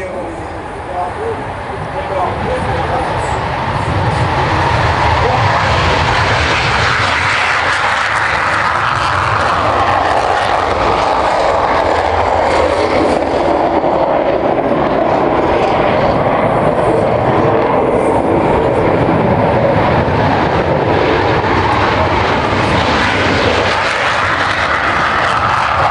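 Panavia Tornado military jets flying at the Rennes airshow, a loud, steady engine roar that swells and sweeps across as the aircraft pass, with an announcer talking over it throughout.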